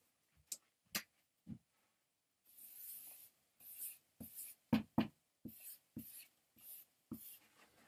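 A pen or pencil draws on paper in quiet scratchy strokes, close up, with short taps and longer scribbles separated by silent pauses and no voices.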